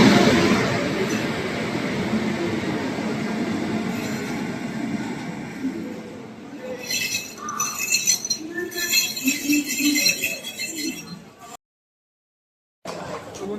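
A train rolls into Naihati station, with a steady rumble and a busy wash of platform noise, then light metallic clinks and rattles rising as it nears, while voices murmur in the background.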